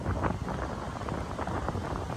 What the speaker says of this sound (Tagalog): nagliliparan yung mga kalat dito dahil nga sa lakas ng hangin